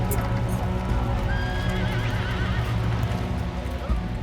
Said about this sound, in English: cannons, horses coming through the surf.